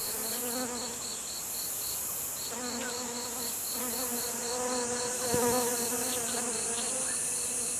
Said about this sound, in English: Through vibrating its wings, a flower bee creates airwaves, which in turn facilitate the collection of pollen.